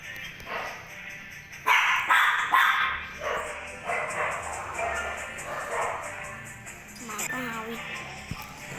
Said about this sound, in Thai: หมาก็เห่า